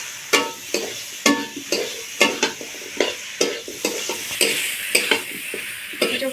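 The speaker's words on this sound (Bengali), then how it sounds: "দিয়ে আরো কিছুক্ষণ কষিয়ে নেব।" Jackfruit curry with fried potatoes being sautéed in a pan, a spatula knocking and scraping in a steady rhythm about every half second over a soft sizzle, close up and without talk.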